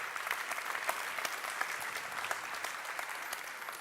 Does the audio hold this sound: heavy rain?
no